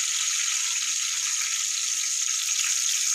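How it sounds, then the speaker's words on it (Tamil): Curry leaves fry in hot oil in a heated pan with a steady, loud, close crackling sizzle that runs unbroken throughout. "சட்டி காஞ்சிருச்சு எண்ணெயை ஊற்றிக்கிறோம் கருவேப்பிலை போடுவோம்"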